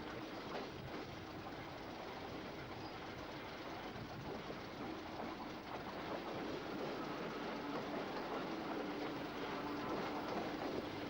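A Melbourne suburban electric passenger train rolls past, a steady broadband rumble of wheels and carriages with faint rhythmic clatter, moderately distant and unbroken throughout.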